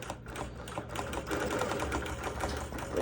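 A Bernina Q24 longarm quilting machine starts stitching, with a fast, steady mechanical needle rhythm and motor hum, close and continuous.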